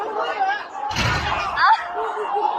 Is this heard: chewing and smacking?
no